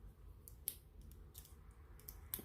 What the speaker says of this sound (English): It also came with these like cute scissors